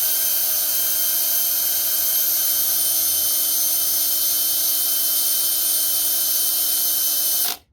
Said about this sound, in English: if I pick up the drill on speed 2, right, with a 3 amp hour battery